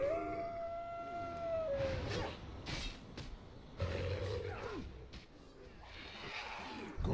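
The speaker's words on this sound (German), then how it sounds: "Aber erstmal die Wölfe hier." Wolves howling in World of Warcraft, a few long, wavering howls that rise and fall, separated by short combat sounds and quiet gaps.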